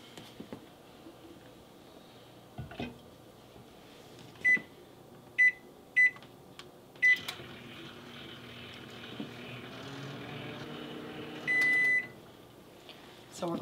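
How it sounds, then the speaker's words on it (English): A microwave oven runs with a steady low hum while melting mozzarella cheese, punctuated by several short sharp beeps and a longer tone near the end, with quiet voice in the background. "So I'm going to start this in my microwave starting at 1 minute"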